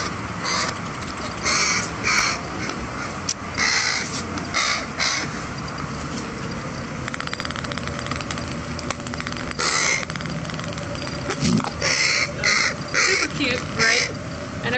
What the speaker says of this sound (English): And here is a raven speaking.